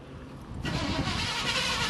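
A half-ton light-duty truck's starter cranks briefly before the engine catches and settles into a loud, steady idle, close up and alone.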